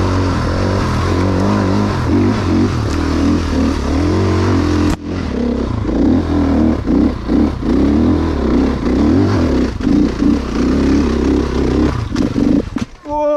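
A Honda CRF450 enduro motorcycle climbs a spoil heap, its engine loud and close with revving and labouring throughout, briefly cutting out once before pulling again amid clatter.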